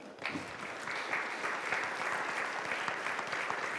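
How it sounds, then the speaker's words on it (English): Sustained audience applause at a conference concluding plenary, greeting youth moderators; dense, steady clapping from a large crowd that holds an even level throughout. "Let's give a big round of applause to our moderators who represent the youth of IofC"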